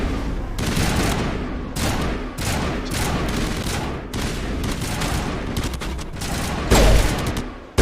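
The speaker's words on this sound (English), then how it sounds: "Esta pistola, madre mía." Rapid, dense gunfire erupts in a sci-fi shooter firefight in Mass Effect Legendary Edition, with loud close shots fired in quick overlapping bursts and a heavier boom near the end.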